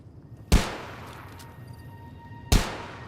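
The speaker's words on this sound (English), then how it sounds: "she's shooting the stop sign." Two loud, sharp gunshots two seconds apart, fired at a stop sign in a modded video game, each a hard crack with a short decaying tail over quiet background.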